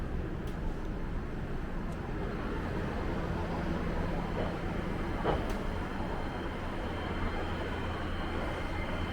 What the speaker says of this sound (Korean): 2번 선에서 발차하는 A3000형입니다.